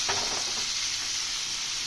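Fish frying in hot mustard oil in a pan, a steady bright sizzle that fills the short stretch, close and even, with a brief stir near the start.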